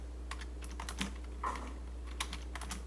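Keys clack on a computer keyboard in short, irregular bursts of typing, fairly faint and close, over a steady low hum.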